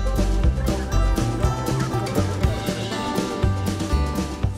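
Capons on a poultry farm in Corrèze cluck and call close by, a busy overlapping flock sound with rhythmic low pulses running through it.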